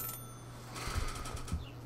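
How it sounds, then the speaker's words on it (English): In the video game Celeste, a phone rings with a steady electronic tone and soft pulsing bell-like chirps, faint and alone over a quiet background hum. "Answer the phone."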